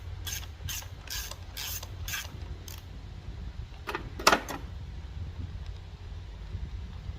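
A hand ratchet loosens a nut on a Stihl MS 180 chainsaw during carburetor replacement: about six quick, evenly spaced clicking bursts up close, then a few sharper metallic clicks after a pause, over a low steady background hum.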